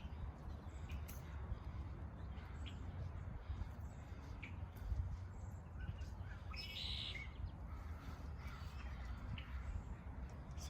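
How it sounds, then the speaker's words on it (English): Distant crows caw faintly over a steady low outdoor rumble during an early March birding walk in Vancouver, BC, with brief calls from other birds mixed in. "crows in the distance"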